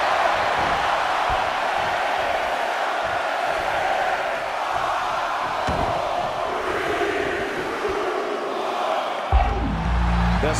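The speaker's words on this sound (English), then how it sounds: "Just listen to the crowd!" A roaring crowd at a fighting video game bout with kicks, elbows and knees keeps up a loud, steady wall of cheering and shouts, with a brief shift in the din near the end.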